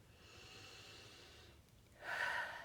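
A deep breath during an EFT tapping session: a faint, quiet airy breath heard alone, swelling into a louder, brief exhale near the end.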